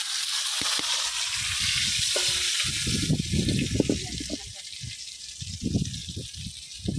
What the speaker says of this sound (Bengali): এখানে সুন্দর করে আমি দুটো পিস মাছ উল্টায় পাল্টায় ভাজা নিলাম